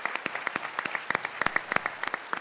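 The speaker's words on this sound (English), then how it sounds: "Please give the 3 of them a big round of applause for their work." Applause at a southern Arizona gubernatorial debate, a quiet scatter of distinct individual claps from a modest audience, fairly distant and irregular, lasting a couple of seconds.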